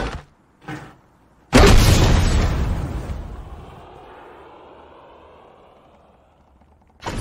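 A couple of short knocks, then a loud booming video game cannon blast that rumbles and fades slowly over several seconds.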